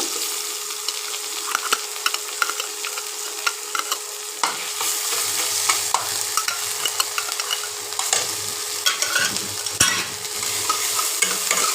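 Spice paste with ginger paste sautéing in a pan while being stirred, a steady bright sizzle with frequent scraping clicks of the spoon throughout and a low rumble joining midway.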